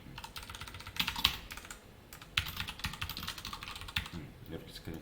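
Computer keyboard typing during an HTML and CSS coding lesson, with quiet clusters of key clicks tapping in uneven bursts across the clip, up close and fairly soft.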